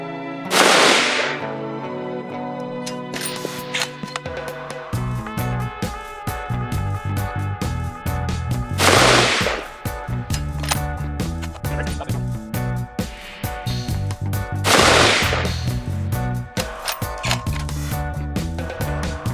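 Bergara Premier LRP precision rifle fired from shooting bags, three sharp loud shots spaced about six seconds apart, each with a ringing decay, over a steady background hum.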